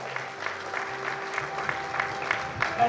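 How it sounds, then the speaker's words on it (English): An audience at an evening community event claps for the event's helpers. The applause is moderate and sustained, with a faint steady tone and some low murmuring in the background. "So please give them a big round of applause."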